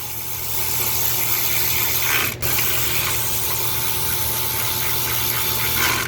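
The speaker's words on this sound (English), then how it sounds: "A couple more bolts to tighten." Ratchet tightening bolts while working on a 6.7 Ford diesel, a steady close mechanical whir and clicking that runs almost continuously with one brief pause, loud and with no talk over it.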